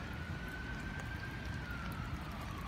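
An ambulance siren wails faintly in the distance on a London street near St. James Park, a single long rising-and-falling tone over steady, rain-like background noise.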